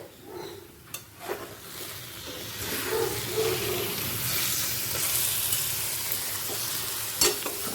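Chicken mince with chickpeas sizzles and fries steadily in oil, a continuous close hiss with a few stirring clatters and scrapes early on.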